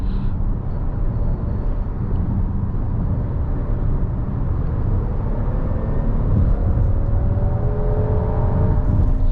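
A 2023 Kia Telluride SX Prestige accelerating while merging onto a highway, heard as a steady interior engine hum and road roar that swells and grows louder toward the end, with no talk.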